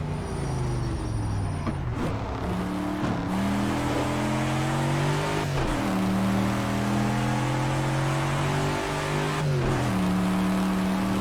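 Engine of a 1967–68 Mustang 2x2 Fastback in the Project Cars racing game, a loud steady V8 drone rising through the gears with brief dips at each shift, held close and continuous with no talking.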